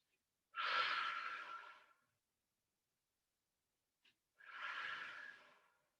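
Two slow, controlled breaths during a low-impact cardio cool-down, each a soft airy exhale of over a second, close to the mic, separated by a long quiet pause, with no talking.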